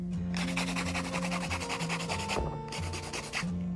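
A hand file rasps rapidly across tapered C-curve nail tips in quick, continuous close strokes, with a low steady hum underneath.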